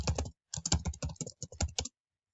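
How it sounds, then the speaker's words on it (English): Quick run of computer keyboard typing, a dozen or so crisp close key clicks in uneven rhythm that stop abruptly, followed by silence. "I just type in Armstrong Library"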